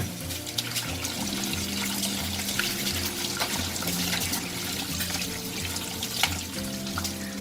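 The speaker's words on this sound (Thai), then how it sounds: "นี่ค่ะเราจะล้างแป้งมันออกจนน้ำใสเลยนะเห็นไหม เพื่อจะเอาแป้งมันออกให้หมดนะคะ" Tap water runs steadily into a sink as tapioca starch is rinsed off raw pork liver, a continuous splashing flow with small clinks and splatters, close and fairly loud throughout.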